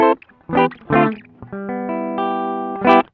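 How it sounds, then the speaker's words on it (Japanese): Electric guitar played through the Fender Twin Reverb amp model on a ZOOM G1 X FOUR multi-effects processor: a few quick strummed chords, then sustained ringing notes with reverb, ending on another bright strum; no talking. "これフェンダーのツインリバーブですかね。"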